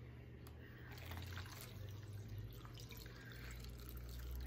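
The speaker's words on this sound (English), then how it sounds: "I have a pitcher of water here and I'm gonna pour it." Water poured from a pitcher, a steady liquid splash and trickle running throughout at moderate level with a low background hum, no voices.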